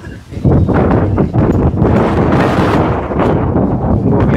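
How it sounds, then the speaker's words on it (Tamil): Strong wind blowing outdoors near water while fishing, loud buffeting gusts hitting the microphone in rough bursts over a roaring, rustling background. "காற்று பயங்கரமாக இருக்கனால."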